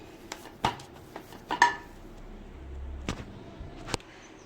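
Gulab jamun dough being mixed in a bowl, with scattered light clinks and scrapes of utensil against dish, a few sharper knocks spaced irregularly, close and fairly quiet, no speech.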